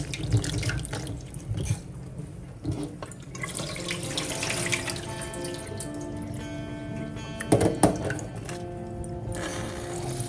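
Tap water runs into a kitchen sink while an eggplant is rinsed under it, a close, steady splashing with shifting tone as the vegetable is turned and handled, plus a few knocks and clunks.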